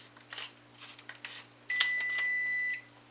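A kitchen oven sounds one sustained electronic beep lasting about a second to signal it has finished preheating, clear over faint kitchen clatter.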